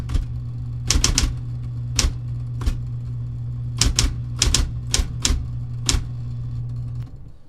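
Typewriter keys strike in sharp, snappy clacks, singly and in quick clusters, over a steady low hum with no talking.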